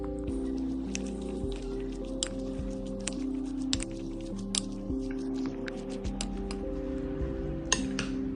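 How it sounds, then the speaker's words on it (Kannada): Mushroom salad tossed with Schezwan sauce in a bowl, soft wet squishing and repeated clinks of a spoon against the dish over a steady low background hum. "ಸೊ ಇದನ್ನೆಲ್ಲ ಇವಾಗ ಮಿಕ್ಸ್ ಮಾಡ್ತೀನಿ."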